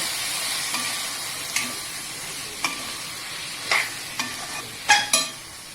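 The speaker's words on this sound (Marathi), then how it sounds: "आता हे सर्व एकत्र मिक्स करून घ्यायचं।" Mashed roasted eggplant with turmeric is stirred in a pan for Khandeshi vangi bharit, with a low steady sizzle and scattered scraping spoon strokes against the pan, several growing sharper toward the end.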